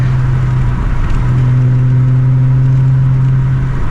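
A VW GTI engine revs hard under acceleration, a loud, close, steady mid-pitched drone holding throughout with no talk.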